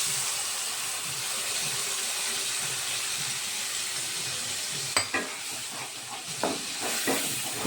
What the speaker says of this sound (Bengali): এই মশলাগুলোকেই আমি প্রথমে ভেজে নেব।